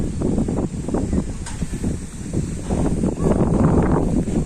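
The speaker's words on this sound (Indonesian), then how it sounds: "angin berat guys" Strong outdoor wind buffets the microphone in a loud, continuous low rumble with gusty surges throughout and no clear talk.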